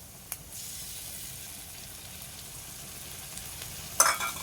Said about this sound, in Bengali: এটা একটু নাড়াচাড়া করবো।